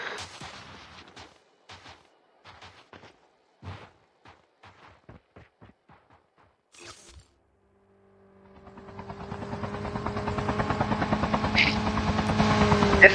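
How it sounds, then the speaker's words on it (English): In a battle royale video game, scattered gunshots and sharp clicks pop first, then a helicopter swells in from silence to a loud, steady thrumming rotor drone that grows nearer and fills the end. "the team are right back in their helicopters and choppers to lead their way towards a new position"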